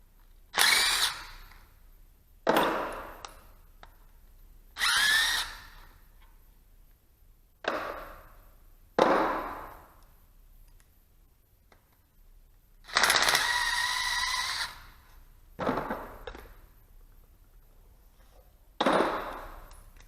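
A power tool or wrench spins off 12mm bolts from a Datsun Z timing cover, up to eight short close whirring bursts, each a second or so, separated by quiet pauses.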